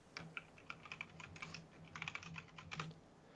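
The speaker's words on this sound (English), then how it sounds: "I got a new keyboard, so let me know if that's ridiculously fucking loud" Someone types on a new computer keyboard, a quick, irregular run of crisp clicking keystrokes heard up close in quiet, with no speech.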